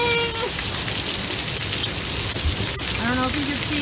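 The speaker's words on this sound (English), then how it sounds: "Oh, it's hailing!" Hail falls during a storm at Lake Elsinore with a dense, continuous patter and hiss of ice striking surfaces. A voice speaks briefly over it at the start and end.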